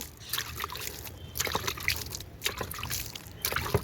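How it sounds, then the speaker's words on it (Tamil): Water sprinkled over freshly sown spinach seeds in baskets in a pot garden, soft trickling and splashing bursts coming in short uneven pulses, close and fairly quiet. "சிறுகீரை வரைச்சது இப்போ இதில் தண்ணி தெளிச்சிக்கலாம்."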